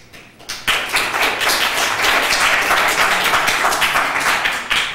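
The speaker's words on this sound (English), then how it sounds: "if I could ask the audience to refrain from clapping in the future" An audience at a meeting breaks into clapping, which swells to a dense, steady round of applause and keeps going for several seconds.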